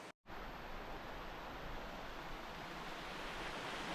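Rushing water of Deep Creek in the Smoky Mountains of North Carolina, a steady, broadband roar heard alone from a campsite, briefly cut out near the start.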